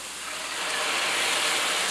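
Hot liquid poured into a pan of softened garlic for risotto, a sudden broad hissing sizzle that swells and holds steady, close and loud with no talk.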